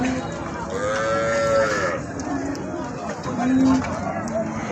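Cattle at a busy rural cattle market in Bangladesh give two long, low moos, one early and one later, over constant crowd chatter and people talking nearby.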